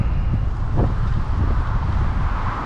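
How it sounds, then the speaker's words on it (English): Wind gusts past a flooded creek during centerpin trout fishing, making a steady, loud low rumble that buffets the microphone throughout, with no voices. "Here comes the wind again."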